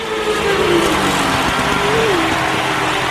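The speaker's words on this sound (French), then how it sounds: "je suis dans les paddocks à São Paulo, je t'ai fait écouter le moteur" A Formula 1 car engine revs in the São Paulo paddock, a loud, continuous mechanical roar with rising and falling pitch sweeps, steady throughout over a busy background.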